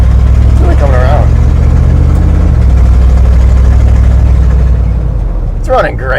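An old squarebody plow truck engine runs loudly and steadily at a rough idle, with a low throbbing rumble and a brief rise in revs near the end, while a person speaks over it.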